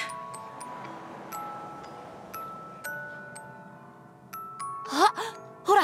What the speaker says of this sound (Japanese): あ、ほら、鐘の音、また聞こえてきたよ。